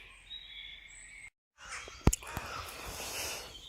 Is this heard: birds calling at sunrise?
yes